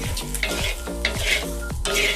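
Fish curry made without oil is stirred in a kadai, with a soft sizzle broken by four rhythmic scraping strokes of a spoon against the pan, close and clear.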